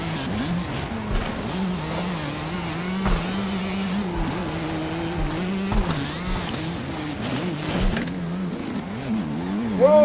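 A racing motorcycle at a road race revs hard with a close, sustained engine drone whose pitch wavers up and down as it chases another rider.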